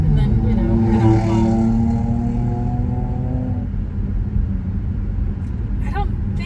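A car engine rumbles with a low, droning tone that fades as the vehicle passes and moves away. A faint voice is heard near the end.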